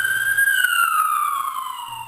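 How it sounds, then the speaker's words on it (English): An emergency siren wails close by, a single loud sweeping tone gliding slowly downward with faint background sounds underneath. "an ambulance was waiting for them and took the climber to the hospital right away"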